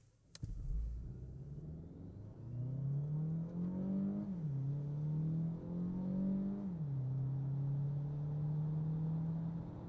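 A Peugeot 3008 plug-in hybrid with a 1.6 turbo petrol engine accelerates at full throttle from 0 to 100, its steady, loud engine note climbing in pitch and dropping twice at gear changes.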